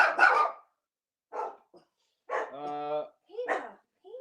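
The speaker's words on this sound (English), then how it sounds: "That's my dog." A dog barks in short separate bursts, fairly close, with a longer whining, yelping cry in the middle; a person speaks briefly between them.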